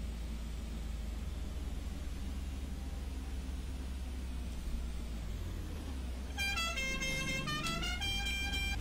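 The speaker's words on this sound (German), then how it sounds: "Sorry, ich habe keine normale Hupe, ich habe nur diese lächerliche." A comical, toy-like horn on a Pegasus MB19 bus in the bus simulator OMSI 2 honks a few times near the end over a steady, low engine rumble.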